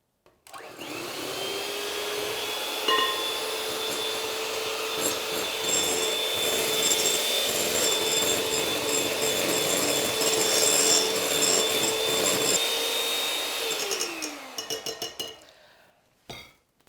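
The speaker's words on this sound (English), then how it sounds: "now we add some caster sugar and whisk it into the mix." An electric whisk beats caster sugar into meringue mix in a bowl at a Royal Highland Show cooking demonstration. A steady, loud whirring drone runs for about fourteen seconds, then winds down and stops, with no talking.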